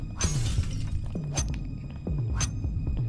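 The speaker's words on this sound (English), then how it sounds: "Destroy all the glass with a gun." Gunfire and repeated glass shattering in the Payday 2 video game: three sharp crash bursts with ringing shards and low thumps, evenly spaced over a steady background hum.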